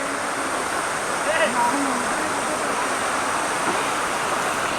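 Anantagiri waterfall sends up a steady broadband roar of rushing water, close and constant, with a few faint voices briefly under the wash.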